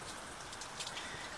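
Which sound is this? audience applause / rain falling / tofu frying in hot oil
rain falling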